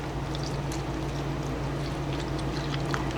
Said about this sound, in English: I'm just going to go ahead and pour in some chicken stock